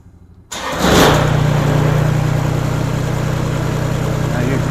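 A Kubota BX tractor with a loose throttle cable linkage cranks briefly, catches and settles into a steady, loud diesel running drone nearby, with no talk over it.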